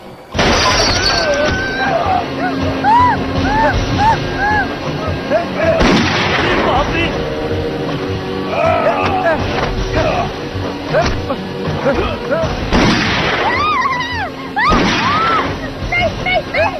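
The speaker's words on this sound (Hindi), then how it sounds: "ट्रेन के अंदर फायरिंग हुई है सर" Loud bursts of gunfire and crashing impacts inside a train, several sharp blasts spread across the stretch, with shouting and voices over a chaotic, dense background.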